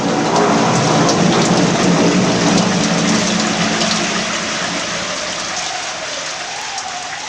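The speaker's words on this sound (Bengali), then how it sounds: "ঘন ঘন বিদ্যুতের ঝলক আর মেঘের গর্জন অবস্থাটাকে আরও সাংঘাতিক করে তুলল।" A heavy thunderstorm with dense, steady rain pouring down and a low rolling rumble of thunder underneath, loud and continuous, easing slightly toward the end.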